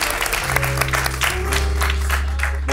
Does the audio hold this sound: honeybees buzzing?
no